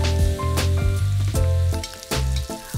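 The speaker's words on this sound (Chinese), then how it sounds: "煸一下蒜末和泡椒" Minced garlic and pickled chilies stir-fry in hot oil in a wok, giving a loud, steady sizzle with repeated scraping stir strokes, close up and with no talking.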